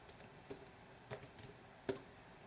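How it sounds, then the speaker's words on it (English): A computer keyboard is typed on in a few sparse, separate bursts of clicky keystrokes. They sound fairly close against a quiet room, with no talking. "Let me actually type that in here."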